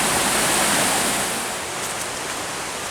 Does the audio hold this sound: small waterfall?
yes